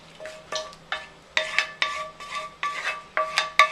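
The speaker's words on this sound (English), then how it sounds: "we're going to transfer it to an oven-proof dish" A spoon scrapes and taps repeatedly against a pan as sauce is transferred into an oven-proof dish, giving a series of close, regular clinks and scrapes about every half second.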